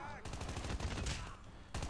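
Rapid bursts of automatic gunfire from the Call of Duty Mobile video game, dense repeated shots in two clusters separated by a short pause, quite faint overall.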